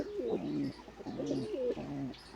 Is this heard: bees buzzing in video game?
no